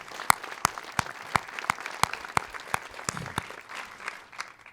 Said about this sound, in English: Can we give them a big hand of applause?